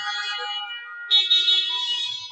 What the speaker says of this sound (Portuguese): Pode buzinar, pode ligar o alerta, pode fazer barulho.